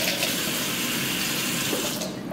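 Water runs steadily from a kitchen tap while cooking utensils are rinsed under it, a continuous close hiss and splash that eases off near the end.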